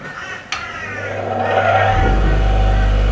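An inexpensive 150 mm, 6-inch bench grinder with its original wheels spins up from a click, its motor rising into a smooth, steady hum with a low drone, loud and close.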